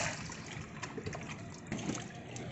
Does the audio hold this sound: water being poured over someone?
yes